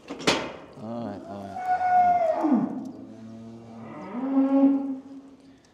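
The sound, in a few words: White Park cattle mooing while being fitted with a collar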